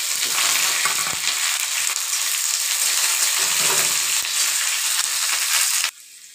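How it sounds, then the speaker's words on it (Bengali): Onions frying in hot oil with cumin seeds, whole garam masala and bay leaves for a chicken curry: a loud, dense, continuous sizzle with faint stirring that cuts off abruptly near the end, no voices. "মশলাটা একটু পোড়া পোড়া হলে আমি পেঁয়াজগুলো দিয়ে দিই।"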